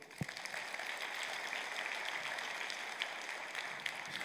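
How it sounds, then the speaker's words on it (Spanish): Church congregation applauding during a sermon, a steady, dense wash of clapping that fills the whole stretch at moderate distance with no voices over it. "Aplausos a Cristo."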